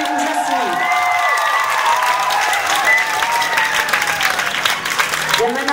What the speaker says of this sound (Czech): Ještě jednou poprosím o potlesk